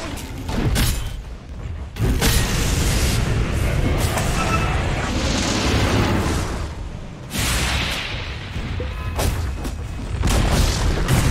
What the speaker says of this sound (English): Middle tower is fallen!